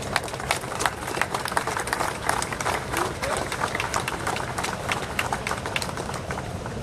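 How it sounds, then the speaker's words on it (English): Audience applause at a topping out ceremony for an arena under construction, a crowd of union ironworkers and guests clapping loudly and continuously, with crisp individual claps standing out over an outdoor murmur. "So I'd like to give them a round of applause."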